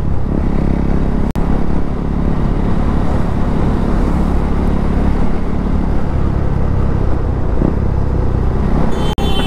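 A KTM Duke 390 motorcycle rides along a road with a loud, continuous exhaust drone and surrounding traffic noise, interrupted by two brief sharp clicks, with no one talking.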